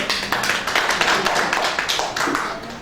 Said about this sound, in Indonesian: terima kasih udah beri tepuk tangan dulu